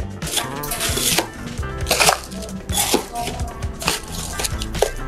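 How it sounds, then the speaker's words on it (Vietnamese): Ice cubes tumble and clatter into a pot for a large batch of Milo drink, producing dense, irregular knocks and rattles close by. "Đầu tiên mình sẽ cho 7 ly đá 500 vào nồi."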